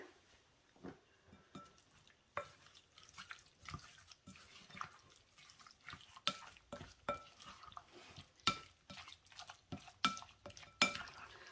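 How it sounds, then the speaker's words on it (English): Crab meat dip with dill and Old Bay seasoning being stirred and mixed in a bowl, a string of soft wet clicks and scrapes in an uneven rhythm, close and fairly quiet, with no talking. "I'm going to go ahead and just mix this together"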